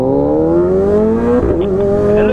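A motorcycle with an aftermarket Arrow exhaust revs hard nearby, its loud engine note climbing steadily before dropping back briefly and rising again.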